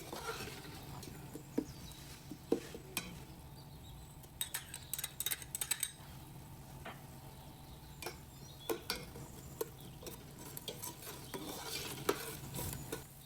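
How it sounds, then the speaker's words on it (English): Ginger and garlic paste sautéing in a pan for a beef yakhni pulao, a quiet steady sizzle with scattered ticks and scrapes of stirring throughout, no one speaking. "Then I add 1 tablespoon ginger paste, 1 tablespoon garlic paste. Give that a good sauté for 1 to 2 minutes."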